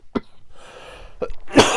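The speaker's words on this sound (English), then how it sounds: "I'm coughing a lot" A woman coughs a few times at close range while working on a box journal, with a short hack at the start, another near the end, and a louder burst to finish.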